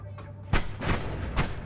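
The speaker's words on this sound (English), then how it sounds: "Also exploding enemies." Explosions from enemies blowing up in the game Noita, several loud thumping bursts in quick succession over a low background hum.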